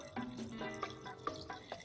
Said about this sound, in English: I'll add in 2 cups of water.